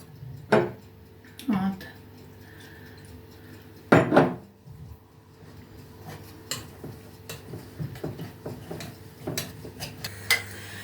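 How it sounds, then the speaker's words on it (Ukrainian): Soft clinks and scrapes of a spoon stirring in a pot, with small splashes of milk poured in bit by bit, under quiet background noise; a few sharper knocks stand out. "потрошки доливаємо і розмішуємо"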